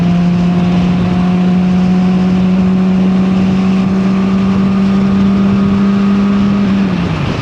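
Honda CBR600RR motorcycle held at full throttle, a loud, steady high-pitched engine drone that runs unbroken for several seconds, then dips briefly near the end.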